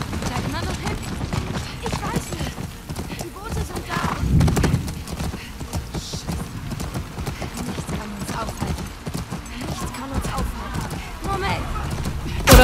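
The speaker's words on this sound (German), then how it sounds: "Pferdchen, lauf, galopp." A horse gallops in The Last of Us Part II, rapid rhythmic hoofbeats clopping close and loud throughout, with a whinny along the way and someone talking over the hooves.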